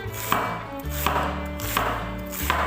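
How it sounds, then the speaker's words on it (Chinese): A knife chops through half a head of cabbage on a board, cutting it into shreds. Firm, even strokes repeat about once every three-quarters of a second, close and clear, with no voices. "将包菜切丝"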